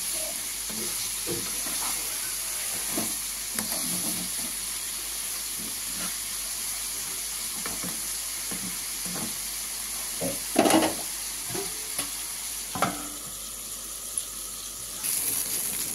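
Softened papaya pieces with a little sugar frying in a pan, producing a steady close hiss and sizzle with occasional stirring scrapes and clinks, no talking.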